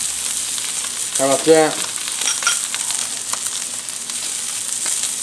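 Compound butter sizzles and fries steadily on a Wagyu ribeye over a PK360 grill, a close, continuous crackle with someone briefly speaking over it.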